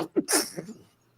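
A single sharp sneeze bursts out after a brief breathy intake, close and fairly loud, in a casual group conversation about arcades before talk resumes.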